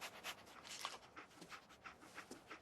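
Dog panting in a modded Fallout video game, a steady run of quick, breathy pants in rapid rhythm, soft and close, with no talk.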